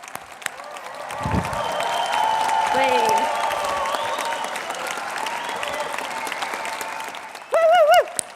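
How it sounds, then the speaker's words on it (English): Applause for graduates at the close of a Brighton degree ceremony in a hall: sustained clapping from a large standing crowd, with voices over it and a loud sung whoop near the end. "we'll give them one last massive round of applause before we leave the hall"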